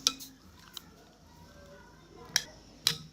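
Chicken being mixed in a pot for Sindhi koyla dum biryani, with a few sharp metallic clinks and scrapes of a spoon against the pot over a quiet background.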